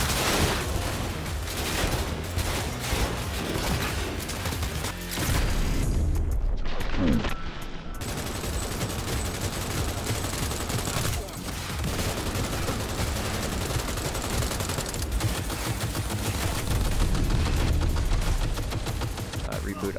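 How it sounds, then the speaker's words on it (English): Arm-launched missiles blowing up a vehicle in the Cyberpunk 2077 video game, a dense, loud barrage of blasts and rapid gunfire-like bursts running continuously with brief lulls, with talk faintly underneath. "let's just blow it up with our ability because we can launch missiles from our arm"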